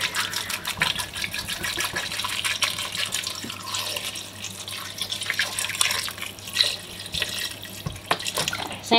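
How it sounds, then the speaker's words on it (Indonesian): Water pours from a tap into a cooking pot, about a liter added for a creamy vegetable soup with zucchini and onion; a steady, continuous running splash fills the whole stretch at moderate level without talk. "Saya tambahkan 1 liter air ya"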